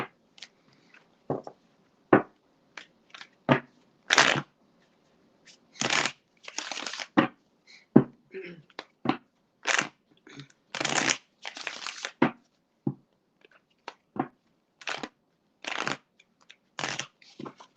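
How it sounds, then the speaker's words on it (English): Tarot cards are shuffled by hand in a quiet room: a long series of brisk riffling and slapping bursts, close and crisp, with short pauses between them and no voice. "Ooh, the cards don't even want to shuffle."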